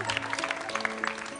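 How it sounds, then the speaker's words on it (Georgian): Brief applause from a comedy show audience, fairly faint and scattered clapping with a steady hum in the background, lasting only a moment. "აპლოდისმენტები."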